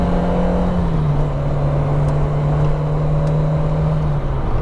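A worn Peugeot 205 GTI hot hatch engine drones loud and close from inside the car, holding a steady, slightly dipping tone throughout with no one talking over it.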